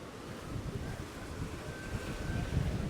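Choppy waves and steady wind at South Pointe beach in Miami, a continuous broadband surf wash with wind rumble on the microphone, fairly even throughout and swelling slightly toward the end, no voices.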